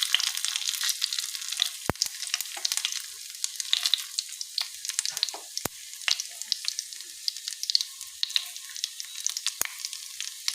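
Bay leaves, dry red chillies and whole cumin crackle in hot oil, a bright close sizzle with sharp sputtering pops scattered irregularly throughout, alone with no voices.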